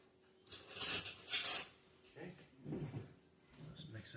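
Dishes and metal utensils being put into a kitchen sink while making Southern corn bread, several separate clinks and clatters in two clusters, fairly close, with quieter handling noises after them.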